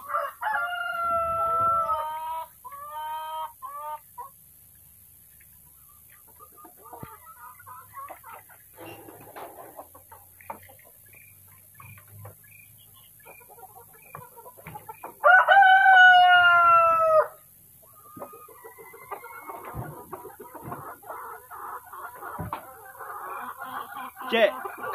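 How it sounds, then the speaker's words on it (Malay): A Rhode Island Red rooster on a farm in Kedah crows loudly twice in clear, ringing calls, with softer clucking and other fowl sounds in between and occasional speech nearby. "Di sana ada ayam jantan tu."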